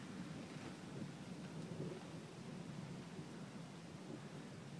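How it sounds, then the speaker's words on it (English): Thunder rolling after a lightning strike during a storm, a faint, distant, sustained rumble over steady rain hiss. "That was a nice little lightning strike."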